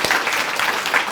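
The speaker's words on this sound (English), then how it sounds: "so let's give her a round of applause" A short burst of audience applause at a student of the year event, steady clapping for about a second.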